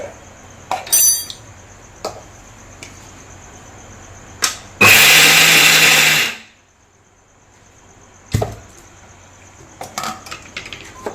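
A kitchen mixer grinder grinding ragi with jaggery runs in one loud burst of about one and a half seconds, then cuts off, set between scattered clinks and knocks of the jar and lid.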